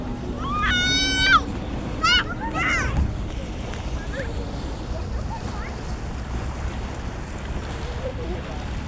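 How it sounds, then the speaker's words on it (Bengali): Waves roll in and churn muddy water, a continuous surging wash blended with gusty wind noise against the microphone, with a few brief vocal calls near the start. "অনেক ঢেউ আসতেছে, কাদা পানি ভাসাই দিয়ে দেখাচ্ছে।"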